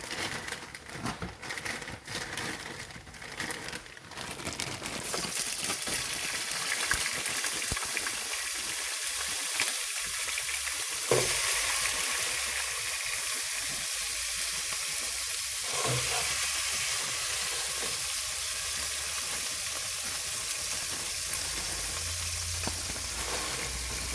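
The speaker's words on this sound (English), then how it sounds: "now I'm just going to fry this for a few minutes" Half a packet of pre-chopped onions fry in a pan, a steady close sizzle filling the whole stretch after a few seconds of quieter handling, with occasional stirring scrapes.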